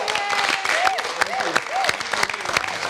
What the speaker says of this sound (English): I think it's apropos to give Craig a big round of applause